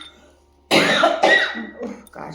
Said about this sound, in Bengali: কাশি আর কমে না।